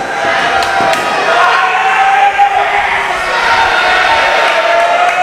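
A wrestling crowd at a Coastal Empire Wrestling event roars steadily for the Saturday Night Scream, a dense, sustained wall of cheering and shouts with a few sharp bangs, loud and continuous throughout.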